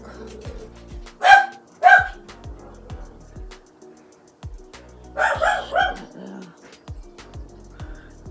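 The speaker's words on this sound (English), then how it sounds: "The sun's out, there's people about, so he just wants to bark" A dog barks in loud, close bursts, two sharp barks early and a cluster of barks mid-clip, over a steady room hum with faint voices at times.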